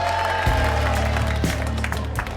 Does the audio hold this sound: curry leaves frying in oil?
no